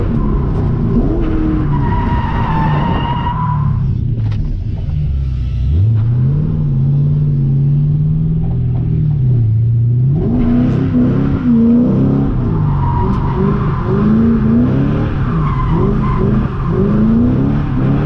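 A drift car on used tires skids and spins out at a drift event, its engine rumbling and revving loudly through long tire squeals that rise and fall, close by and with no talk.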